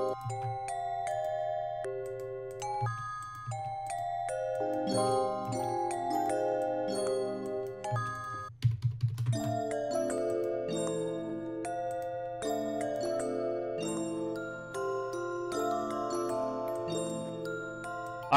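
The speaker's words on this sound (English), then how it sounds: "I think it might be this first bell layer here." Layered bell sample in a trap-style music production melody, bright chiming tones ringing in sustained chord patterns over a low steady bass note, with a brief dip and shift partway through.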